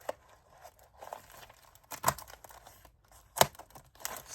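Plastic packaging around Alize Velluto yarn is cut and torn open by hand, with soft crinkling and rustling broken by two sharp, loud snipping or ripping bursts, close up.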